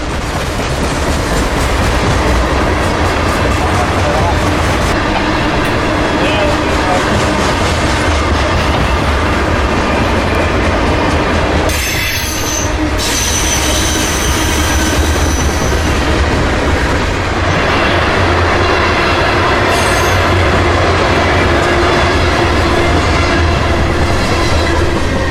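The giant L793 freight train rolls past, loud and steady, with continuous wheel rumble and clickety-clack plus a brief squealing burst near the middle, and no voices.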